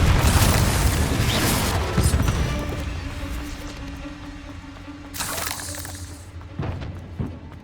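Explosive Bombarda and Confringo spells cast in Hogwarts Legacy, a heavy booming blast with shattering debris at the start, then a lingering rumble and a second burst followed by scattered crashing hits.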